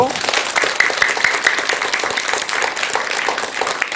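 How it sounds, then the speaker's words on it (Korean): An audience at a Buddhist monk's lecture applauding, a dense, even round of clapping that fills the hall and holds steady throughout. "박수 한번 드리세요"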